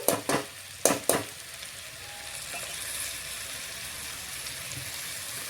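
Rice and vegetables for masale bhaat fry over medium heat in a pan, two sharp scrapes of a stirring spoon at the start giving way to a soft, steady sizzle.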